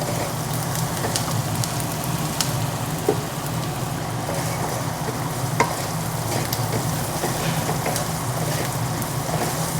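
Onions cook in a pan with salt, giving a loud, continuous close-up sizzle and crackle with occasional stirring scrapes and a low steady hum beneath.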